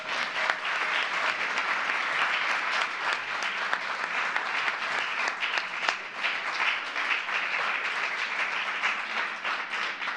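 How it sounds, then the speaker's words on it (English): Sustained applause from a crowd at a presidential speech, dense clapping that holds steady throughout without a break. "They deserve a round of applause."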